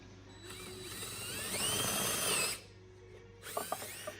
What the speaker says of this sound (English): it's now just a matter of drilling out the center.